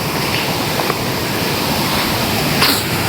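Continuous flowing water at a deep village bathing spot on a monsoon morning, a steady broadband rush like a stream or small waterfall, loud and close, with no voices.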